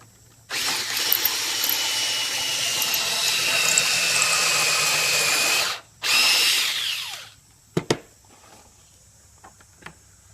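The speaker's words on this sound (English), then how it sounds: "I got my drill here with a special drill bit." A power drill fitted with a pocket-hole bit bores into wood clamped in a jig, giving one long loud whine for about five seconds, then a shorter second burst, followed by a few sharp clicks and knocks.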